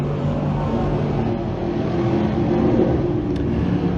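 A pack of limited sportsman race cars roars across the line at a dirt-track feature, a dense, continuous engine drone that stays loud and close throughout.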